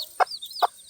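A mother hen with newly hatched chicks gives two short, close clucks about half a second apart, over faint high peeping.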